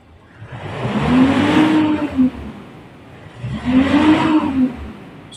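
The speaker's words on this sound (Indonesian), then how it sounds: "Ini sekarang kita coba gas." Engine of a Mitsubishi Pajero or Strada Triton with a low-power fault and a crank angle sensor code, revved twice under throttle. Each rev rises, holds briefly and falls back, with the RPM capped near 1500. No voices are heard.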